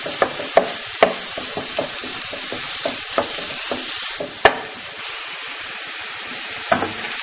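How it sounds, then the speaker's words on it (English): Ground meat browns in a hot pan with a steady crackling sizzle, punctuated by sharp scraping clicks of a utensil stirring and breaking it up at an uneven rhythm. "the first step is browning your meat"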